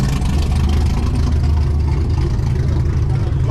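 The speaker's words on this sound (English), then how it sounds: "That Corvette sounds pretty wicked over there." At a car show, a Corvette engine rumbles at a steady, deep idle nearby, a loud continuous low drone with faint crowd noise around it.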